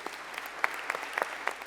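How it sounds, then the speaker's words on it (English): An audience at an induction ceremony claps in a brief burst of applause, a dense patter of hand claps that sounds moderately distant and fairly soft. "And yes, you can applaud yourselves"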